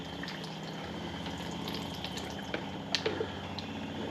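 Water running out of an ITEHIL portable water filter into a bucket, a steady trickling and splashing stream with a continuous pump-like hum underneath and a few louder drips near the end.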